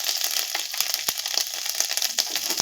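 Hot oil spatters and sizzles while frying, the flour carrying water, giving a steady hiss broken by sharp irregular pops and crackles, close and fairly loud with no talk.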